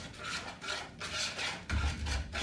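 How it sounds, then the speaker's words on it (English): A whisk scraping and rasping through carrot cake batter with ginger in a big bowl, in steady back-and-forth strokes with rhythmic swishes, close and fairly quiet. "you just whisk those ingredients together"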